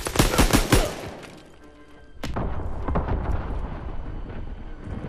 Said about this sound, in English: Oh, it's the incendiary guns.